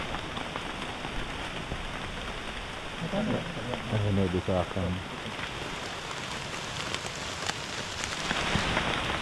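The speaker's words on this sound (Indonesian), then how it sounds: "Lanjut lagi dalam keadaan hujan" Steady rain patters on surfaces along a wet mountain hiking trail on Gunung Cikuray, an even hiss throughout, with a short bit of nearby talk in the middle.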